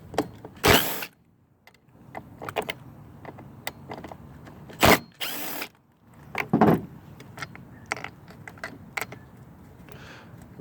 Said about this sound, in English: I have my little drill